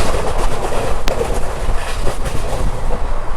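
The Kurla Express runs fast on the rails with a loud, steady rumble and rattling wheels, heard from on board, with a brief sharp clank near the start.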